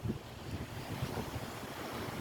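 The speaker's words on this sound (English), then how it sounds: "Listening to the waves like that, oh man, you ain't kidding." Ocean waves on the Florida Suncoast shore, a soft continuous wash of surf mixed with wind buffeting the microphone, faint and without voices.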